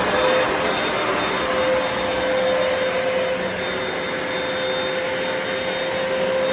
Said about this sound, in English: What I did is I use this product, the carpet cleaner.